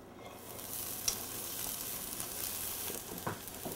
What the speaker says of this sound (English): Fry the bean sprout first.